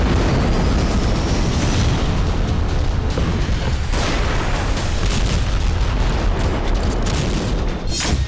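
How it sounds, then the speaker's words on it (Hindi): Explosions from an Israeli missile strike on Iran in the early morning produce a loud, continuous, rumbling roar with overlapping blasts that stays dense and booming throughout. "ईरान पर इजरायल का मिसाइल आघात।"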